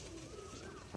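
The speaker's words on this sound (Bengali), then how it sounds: "এই পায়রাটা হচ্ছে নলি মোজা" A molting pigeon with feathered feet gives a brief, soft coo, a low tonal murmur close by against a quiet background.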